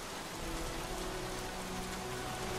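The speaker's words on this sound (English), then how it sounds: "Goddamn rain. Soaking wet." Steady, heavy rain patters without a break in the video game Heavy Rain, forming a dense hiss. A faint low hum lies underneath and no one speaks.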